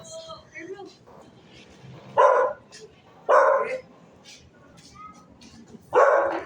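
A dog barks three times outdoors, loud, sharp single barks spaced about a second apart, with people talking quietly in between.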